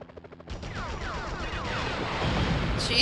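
A police helicopter in a Spider-Man video game roars in with a dense, rising rotor drone and rapid gunfire-like bursts, loud and continuous, with no talking over it.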